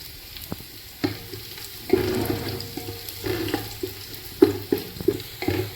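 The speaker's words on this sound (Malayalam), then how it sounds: "ഇതിലേക്ക് കുറച്ച് ഒരു പിടി കരി കറിവേപ്പില ഇട്ട് കൊടുക്കുന്നുണ്ട്" A handful of curry leaves fries in hot oil for Kerala coconut rice, a close crackling sizzle with sharp pops and spits bursting out repeatedly.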